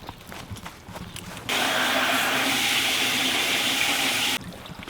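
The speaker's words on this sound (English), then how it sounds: "I'm gonna need you to turn the hose on too." Garden hose running water beside a pond, a sudden steady rush of splashing hiss that starts partway through, holds at even volume for about three seconds, then cuts off, with quieter rustling before and after.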